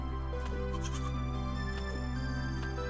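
Sheep bleat in the survival crafting game Crea, several wavering calls rising over a steady droning game soundtrack, loud and up close with no one speaking.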